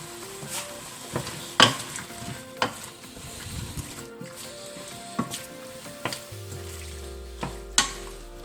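Chicken and shrimp alfredo pasta sizzling gently in a pan while being stirred, with scattered clinks of a utensil against the pan over a steady low sizzle; no one speaks.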